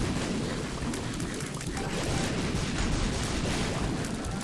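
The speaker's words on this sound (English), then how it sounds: "Just watch out for the explosions." Explosions in The Binding of Isaac: Repentance during an Ultra Greed fight, heard as a continuous dense rumble of booming blasts with no pauses, loud and steady for the whole stretch.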